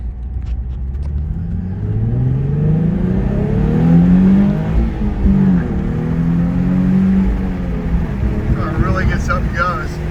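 A 2008 Nissan 350Z Touring coupe with a six-speed and a Nismo exhaust accelerates hard, its engine note rising through a gear change and droning loud and close, with a voice briefly audible near the end.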